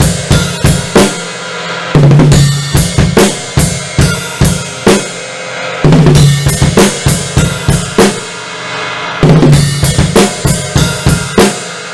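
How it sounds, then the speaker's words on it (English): A drum kit playing a song part: bursts of four fast high tom hits, then a crash cymbal struck together with the bass drum, repeated in a loud, close, tight pattern. "you're going to do 4 fast high toms. And then you're going to do crash with the bass drum"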